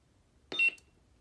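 A single short electronic beep from a custom claw-style lightsaber while its power button is pressed and held, sounding alone against near silence.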